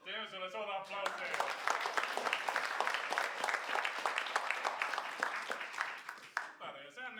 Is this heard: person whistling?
no